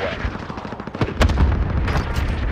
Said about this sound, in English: Airstrike target marked.